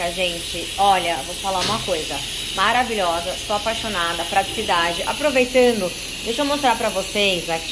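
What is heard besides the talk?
electric pressure cooker hissing steam while cooking chicken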